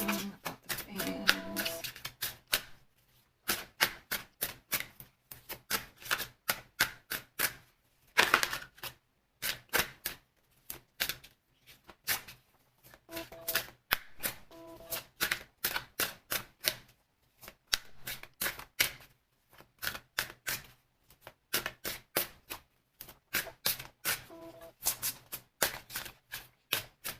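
Tarot cards being shuffled by hand in a quiet room, quick rapid riffling bursts repeating in irregular bunches with short pauses between them.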